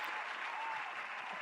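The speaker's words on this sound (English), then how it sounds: "Round of applause for Paul Rodriguez." Brief burst of studio audience applause on a sneaker podcast, dense continuous clapping heard alone.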